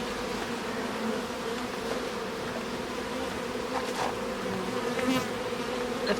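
Flying honeybees buzz around a nuc hive, a dense, steady drone with individual bees passing close by now and then.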